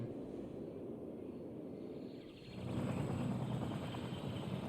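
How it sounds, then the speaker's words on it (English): Fire-fighting helicopter in the city-building game Cities Skylines, a low steady rotor drone that swells louder midway and holds close and continuous with no talking. "hopefully this helicopter is going to top it relatively soon"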